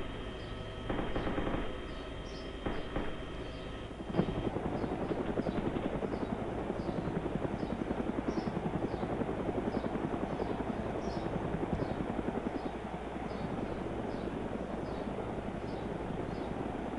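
A helicopter flown by two pilots in the video game DayZ, a continuous loud rotor thump and engine drone at steady rhythm for the whole stretch, with a few brief clicks near the start.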